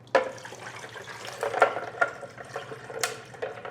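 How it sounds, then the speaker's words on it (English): Water is poured from a tap or container into a blender over ice, a close, bright splashing and trickling with a few sharp clatters, continuous with no speech. "then you're gonna put water in"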